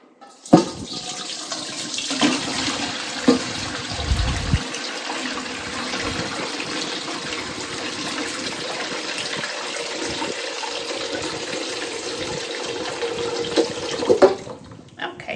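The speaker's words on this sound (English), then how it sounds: "I'm going to pour some of that liquid off into this pan first." Pickle brine pours steadily from a jar into a pan, a continuous close splashing trickle lasting about fourteen seconds, with small clinks at the start and end and no talk.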